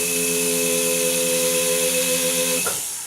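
A rotary tool running at medium speed against a metal ring prong to cut a small divot, a steady close whine with a fixed pitch that stops abruptly near the end.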